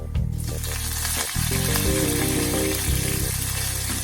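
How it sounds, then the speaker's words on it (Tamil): Fennel seeds and curry leaves crackle and sizzle loudly in hot oil, a dense continuous frying hiss close to the pan. "சோம்பு கொஞ்சம் ஃப்ரை ஆகட்டும்."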